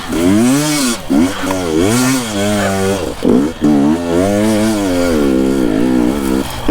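A dirt bike engine ridden through mud on a muddy single-track trail, revving loud and close with its pitch rising and falling as the throttle changes, with brief dips between pulls.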